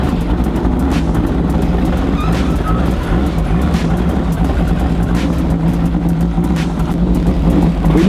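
A 1966 Ford GT40 race car engine idles and warms up nearby, a loud, steady low rumble with a rough, pulsing texture throughout.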